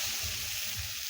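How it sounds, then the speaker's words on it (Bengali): Hog plums (amra) being stirred in a pan for chutney give a brief, soft, close sizzle with gentle scraping and a rhythmic low shuffle of fruit moving in the pan. "আমড়াগুলো একটু নেড়ে নেব।"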